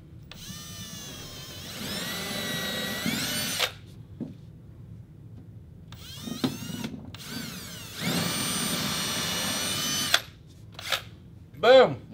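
A power drill with a 3/16 inch (4.5 mm) bit bores holes 55 mm deep into a wall to mount a slim TV bracket, heard as several loud whirring bursts separated by short pauses and small clicks.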